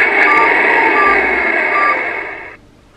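Digger vehicle sound effect from a Paw Patrol toy tablet, a loud, buzzy electronic rumble with whining tones that holds steadily for over two seconds, then cuts off abruptly.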